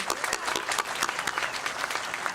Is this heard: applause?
yes